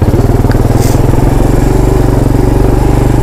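Quad ATV engine on a trail, a loud close throbbing drone with steady pulsing rhythm as the rider gets ready to pop a wheelie.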